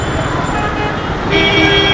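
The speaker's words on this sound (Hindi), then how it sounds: "ये ट्रैफिक में जूझ रहे हैं हम।" Busy evening road traffic in Kolkata, with a steady wash of engines and a sustained car horn toot sounding close by partway through, over constant roadway rumble.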